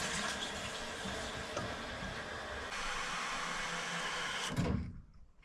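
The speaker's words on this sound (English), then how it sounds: "we're just going to turn the water on and just test for leaks." Water rushes and hisses steadily through newly fitted plumbing during a leak test, loud and close, then cuts off abruptly with a brief thump near the end.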